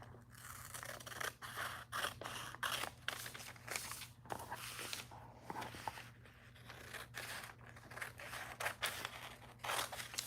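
Scissors snip through paper while cutting a corset dress pattern, a quiet, fairly steady series of short crisp cuts with faint rustling and scraping.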